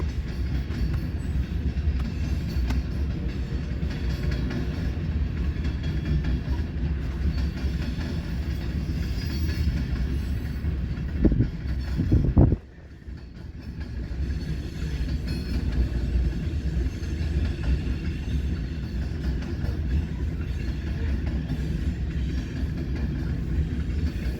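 A westbound train runs on a triple track main line near Ashland, Fremont and Omaha, a steady rolling rumble of wheels with a short sharp squeal and thump midway before the drone resumes.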